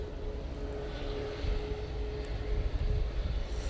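Ryanair Boeing 737 MAX 8 departing Manchester Airport for Krakow on a windy day, a steady engine roar with wind noise holding throughout, swelling slightly louder toward the end.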